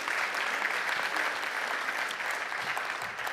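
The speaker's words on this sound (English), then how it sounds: "I'd be happy for a clap." An audience at a talk breaks into steady, even applause, moderately loud and continuous throughout.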